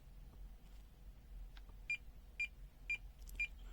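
Non-contact voltage (NCV) alarm on a BSIDE O1 CAT III 600V 6000-count multimeter with oscilloscope gives four short, evenly spaced high beeps, close and clear, over a faint low hum with no talking.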